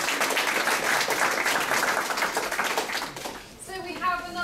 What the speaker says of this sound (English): I think another great big round of applause.